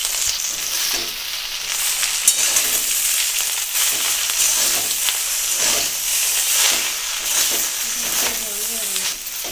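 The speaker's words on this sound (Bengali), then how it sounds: "কচু শাকটা সব কিছুর সাথে মিক্স করে ভেজে নিচ্ছি" Chopped taro leaves fry with browned onion in a pan, giving a steady loud sizzle and hiss with occasional stirring scrapes throughout.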